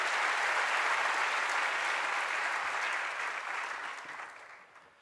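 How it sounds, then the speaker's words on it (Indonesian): A crowd of students applauds in the Balairung hall of SMA Taruna Nusantara, with full, dense clapping that carries on steadily and then fades away over the last couple of seconds. "Tepuk tangan untuk kita semuanya."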